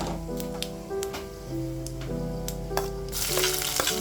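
Mustard seeds and chana dal fry in hot oil in a kadai, giving a close, steady sizzle broken by sharp crackles and pops. Short tonal clinks sit over the frying, and no one speaks.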